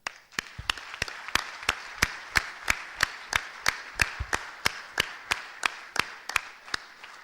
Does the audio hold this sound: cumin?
no